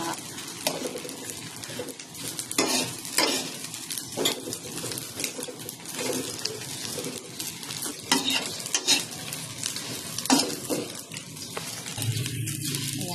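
Anchovies frying and being stirred in a pan, with continuous crackling sizzle and repeated scraping strokes of the utensil, fairly close, while faint bird calls sound in the background.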